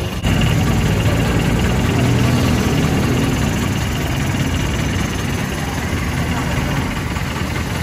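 A passenger jeep engine with no engine cover idles steadily up close, a continuous loud rumbling drone with a constant vibration throughout.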